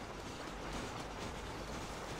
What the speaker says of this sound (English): Oh man, here comes the train!